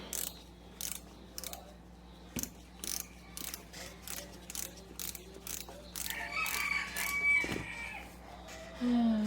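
Rhythmic mechanical clicking and ratcheting up close while taking apart a Singer sewing machine, then a rooster crows clearly in the background near the end.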